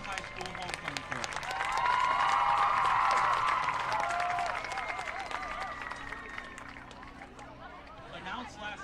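Crowd at a high school homecoming event gives a sustained round of applause, swelling loud in the middle and tapering off, with cheering and babble mixed in across a large outdoor gathering.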